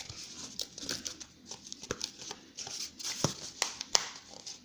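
Scissors snip through cardboard for a homemade slide puzzle, with quiet crinkling and a run of sharp close cuts at an uneven pace.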